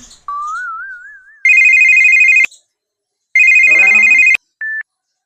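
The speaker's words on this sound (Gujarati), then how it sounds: "તો હાલો એને ફોન કરીએ" Calling a friend on a mobile phone in a Gujarati comedy sketch: a wavering electronic tone gives way to two long, loud ringback tones separated by a pause, then a brief final beep.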